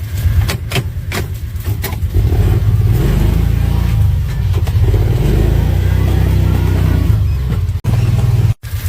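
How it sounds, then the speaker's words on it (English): A gasoline truck's engine revs hard and close while reversing during a pasture burn, a loud sustained roar with rising and falling pitch that cuts out briefly twice near the end. "I'm going to back up so this gasoline truck doesn't catch on fire."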